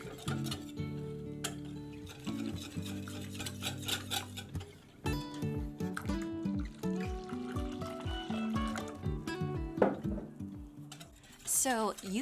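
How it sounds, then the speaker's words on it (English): Water being stirred into rice flour batter for cheung fun, soft liquid swishing and spoon ticks against a bowl, with tonal background sounds layered over it. "I'm going to pour in some water and then get this rice mixture nice and smooth"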